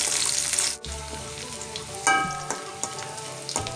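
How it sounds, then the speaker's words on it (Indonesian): Shallots and garlic sautéing in a pan for spicy squid sambal, a loud crackling sizzle that briefly drops after the ingredients go in, then continues with intermittent pops and stirring scrapes, close by. "masukkan bawang merah, bawang putih, tumis hingga harum."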